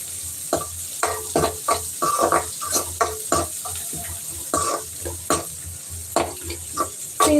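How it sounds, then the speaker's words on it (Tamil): Squid sautéing in oil in a pan over low flame, a soft sizzle under repeated close scraping and stirring strokes, no voices. "இது நல்லா வந்து எண்ணெயில் வதக்கிக்கோங்க"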